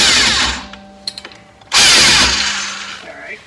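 A 17 mm tool whirs and ratchets in two loud, close bursts while loosening the sway bar mount bolts on a 2013 Toyota Avalon, with a few sharp clicks between them.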